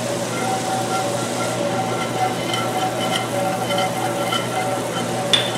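Balsamic vinegar and Worcestershire sizzle steadily in a cast iron pan on medium heat, a dense continuous hiss with light scraping from a utensil along the bottom, close and fairly loud, with no talk over it.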